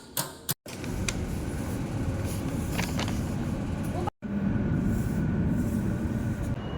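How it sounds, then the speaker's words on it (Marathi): A metro train arriving at a station rumbles steadily close by, a continuous mechanical roar interrupted by two brief moments of silence. "त्यानंतर मेट्रो आली"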